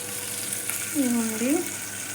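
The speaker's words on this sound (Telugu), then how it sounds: "ఇదిగో ఇవి దోరగా వేయించుకోవాలండి" Ridge gourd pieces fry golden in a pan for chutney, giving a steady, close sizzle throughout with a brief stirring-like swell in the middle.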